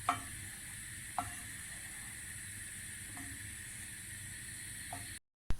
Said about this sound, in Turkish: en kısık ateşte unumuzu yavaş yavaş rengi dönene kadar kavuruyoruz